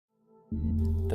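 TIG welding arc while filler rod is dabbed into the molten puddle on a fillet joint between panels: a faint hum swells, then a steady loud buzzing drone switches on abruptly and holds, with a brief crackle near the end.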